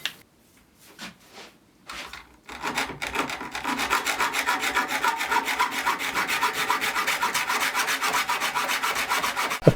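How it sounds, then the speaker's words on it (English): A hacksaw cuts quickly through a ring of 15mm copper pipe, with a few light handling noises followed by fast, steady rasping strokes that run evenly to the end. "A quick cut with a hacksaw"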